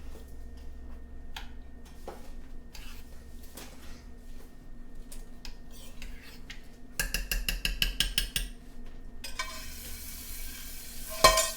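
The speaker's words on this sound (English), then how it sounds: "I'm just going to add in 12 meatballs." Crusted meatballs drop into a hot crock pot set on high. A soft clatter and faint sizzle build into louder bursts of stirring and frying noise toward the end, with no talking.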